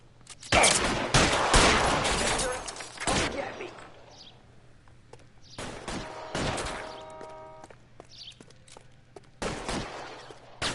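Gunfire crackles in a shootout from the video game L.A. Noire on PS4: loud clustered volleys of shots, then scattered single cracks and shorter bursts with quieter gaps between.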